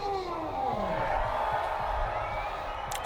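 A crowd at an arm wrestling match in Martinsburg, West Virginia cheers and whoops steadily in a large indoor hall, with a dense sustained roar that swells slightly midway.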